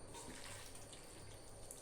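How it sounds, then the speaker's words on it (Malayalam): Water is poured into a pan of beef and raw plantain (kaya) cooking together, giving a faint, steady running-liquid sound that lasts throughout with no talk. "കുറച്ച് വെള്ളം നമ്മൾ ഇതിൻ്റെ കൂടെ ചേർക്കുന്നു."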